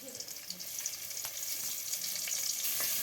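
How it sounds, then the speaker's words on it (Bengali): Chopped onion and garlic frying in oil for a dal tempering, a soft continuous hiss and sizzle with faint crackles, fairly quiet and steady throughout. "ডালে তেলানি দেওয়ার জন্য প্রথমে তেল দিয়ে দিল। এবার পেঁয়াজ কুচি আর রসুন কুচি দিয়ে দিল।"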